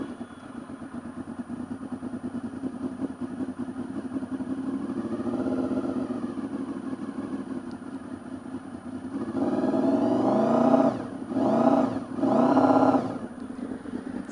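A motorcycle engine fitted with a homemade exhaust pipe idles with a steady rumble, then is revved hard in several rising bursts, loud and close, with no talking.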